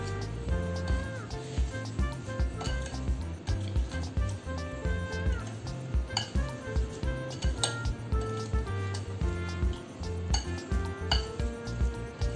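Salt being mixed into raw mango pieces for pickle in a steel bowl: steady clinking and scraping of a spoon against the vessel in a repeated rhythm, close and continuous, under background music.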